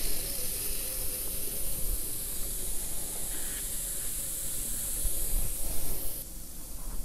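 Compressed air hisses steadily through an air-over-oil manifold fitted with banjo bolts and valves, a constant close broadband rush that holds level the whole time.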